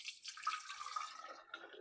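Homemade beef bone stock pours into canning jars as a faint, close, trickling splash with small drips, and the flow tapers off near the end.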